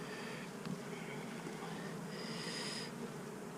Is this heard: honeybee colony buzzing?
yes